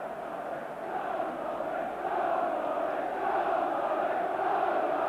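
Football crowd at the Baseball Ground in Derby during a 1992 Derby County versus Blackburn Rovers match, a dense roar that surges and builds steadily, heard from a distance through a broadcast.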